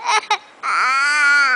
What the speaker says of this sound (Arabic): كل ده عياط عشان الشيبسي؟